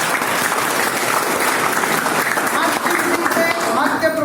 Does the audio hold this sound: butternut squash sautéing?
no